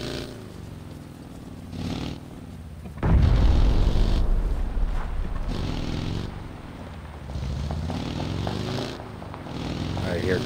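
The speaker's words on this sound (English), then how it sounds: "I hear gunshots to our right" Gunfire and explosive blasts in the battle royale game PUBG on Xbox One: a loud booming burst hits around three seconds, followed by sustained rumbling shots and further bursts, with players talking over the action.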